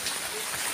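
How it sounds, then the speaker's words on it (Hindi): Steady broadband hiss of rain falling outdoors in wet weather, an even wash of drops filling the whole short moment with no distinct individual impacts. "भाई बाहर बारिश हो रही है"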